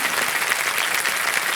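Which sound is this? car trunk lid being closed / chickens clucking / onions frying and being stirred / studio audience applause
studio audience applause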